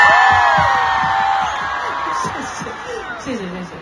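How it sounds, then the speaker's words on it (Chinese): A large concert crowd in Hangzhou cheers and screams loudly to welcome actress Yang Mi at a concert, a dense sustained roar of voices with whoops that slowly fades over a few seconds. "大家掌声欢迎蜜姐。"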